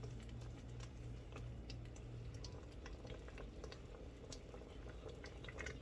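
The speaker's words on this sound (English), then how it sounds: "this is getting to a nice boil" A pot of peach jam made from Loring Freestone peaches, sweetened with sugar and filled almost to the top, bubbling at a steady boil. A dense, continuous crackle of popping bubbles sits close and moderately quiet, with no talk.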